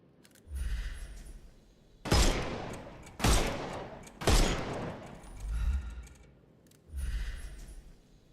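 In the Sherlock Holmes Chapter One video game, gunfire strikes enemies' armor in several sharp bursts with rumbling tails, loud and close, separated by short gaps.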